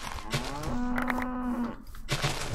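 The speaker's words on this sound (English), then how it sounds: "I'm pissing off the cows." A cow in the Minecraft modpack Enigmatica 2 Expert gives one drawn-out low moo near the listener, framed by game noise.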